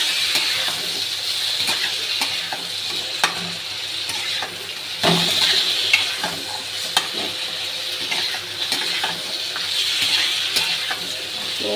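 Potatoes frying in a pan in a home kitchen are stirred, giving a steady broadband sizzle with scraping strokes and a few sharper knocks, close and continuous with no talking.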